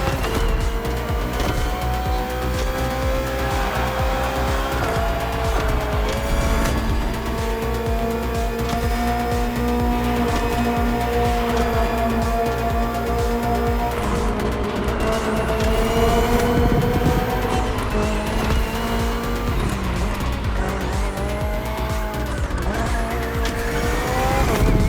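A BMW M Hybrid V8 endurance race car from 2023 roars through The Crew Motorfest racing game, its engine revving and shifting steadily throughout with tire squeals and skids, loud and close, with no voices.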